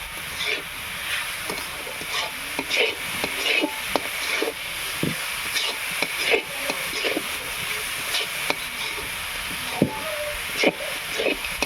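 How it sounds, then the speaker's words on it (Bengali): Sugar being stirred continuously into a roasted rice and coconut mixture in a pan, giving steady soft hiss and sizzle with repeated scraping strokes throughout, fairly quiet and close, with no talking. "এটা নাড়া বন্ধ করলে হবে না, চিনি দেওয়ার জন্য নিচে ধরে দিতে পারে, সেই জন্য এটা অনবরত নেড়ে যেতে হবে।"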